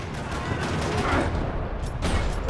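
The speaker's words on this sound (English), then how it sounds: "Another parking lot rattling with gunfire." Dense gunfire rattles through a parking lot in the Max Payne 3 video game, a continuous loud fusillade of overlapping shots lasting the whole stretch with no pauses.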